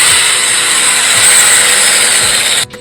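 A power drill whirs on its own in the back of a store, a loud, steady high-pitched motor whine that runs continuously and then cuts off abruptly near the end.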